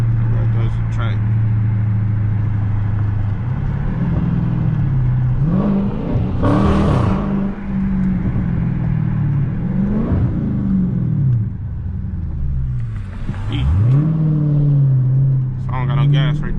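Dodge Challenger Scat Pack running E85 with an upgraded intake, heard from inside as the engine drones and revs in rising and falling sweeps, with a few sharp exhaust pops under ongoing talk.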